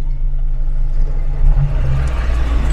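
A Mazda 323 sedan that smokes a little and burns some oil when the clutch is released, its engine idling with a steady low rumble close by and no talking.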